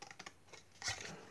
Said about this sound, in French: Donc, on coupe nos angles.